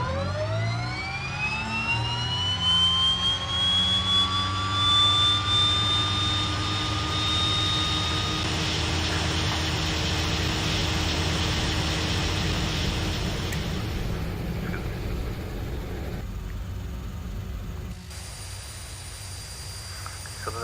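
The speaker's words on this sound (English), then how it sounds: "So the engine appears to be running." A de Havilland Twin Otter's turboprop engine spools up in the MSFS2020 flight simulator, rising whine tones climbing steadily over a loud rushing roar, then settling into a steady hum as the engine runs.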